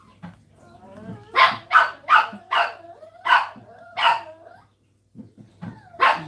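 Several dogs bark in a rapid, loud run of about half a dozen sharp barks, then a pause and more barking, close by, with faint talk in the background.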